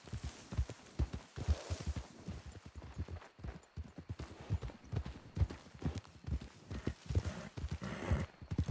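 Rapid rhythmic clip-clop of horse hooves at a gallop in a video game, steady and close, with a faint whinny and occasional muffled voice.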